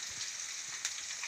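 Onion greens dropped into hot oil while cooking shengole, giving a continuous bright frying hiss with a small crackling burst, close and moderately quiet.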